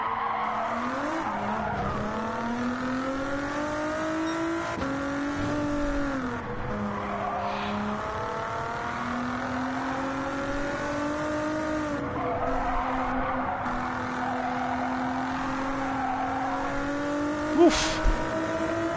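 A raspy V6 race car engine in a video game revs up and down through repeated gear shifts, with brief tire squeals and a sharp click near the end.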